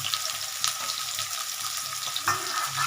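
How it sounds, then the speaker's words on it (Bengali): Potatoes and chopped onions frying together in a pan make a steady close sizzle, punctuated by a few stirring clatters and scrapes. "এই আলু ভাজা পেঁয়াজ ভাজা আমি একসঙ্গে করে নেব"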